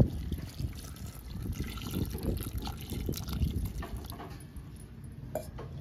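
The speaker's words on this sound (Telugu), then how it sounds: "చూడండి, వాటర్ వేసుకుంటుంటా." Water pours steadily into a pot of mango dal curry, a continuous close trickling and splashing that lasts throughout without any talk.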